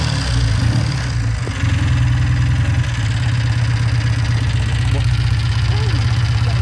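A warm 1965 Triumph 3TA 350cc motorcycle engine idles close by, a loud, steady, rapid thumping exhaust beat that holds even throughout, with a voice briefly audible over it.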